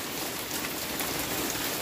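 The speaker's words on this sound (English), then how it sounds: "This is good rain." Steady, dense rain falls on the ground as a continuous hiss with no breaks, loud and close, with no talk over it.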